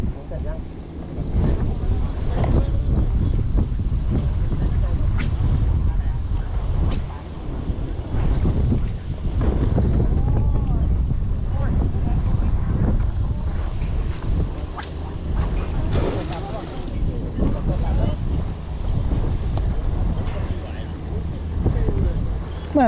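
Strong wind buffets the microphone beside a sea bass fish pond, a loud, continuous rumbling roar with gusty swells, while voices talk underneath.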